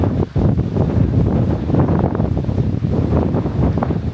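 Strong seaside wind on Madeira buffets the microphone in a constant loud, rumbling roar that swells and dips slightly, with no clear voices over it.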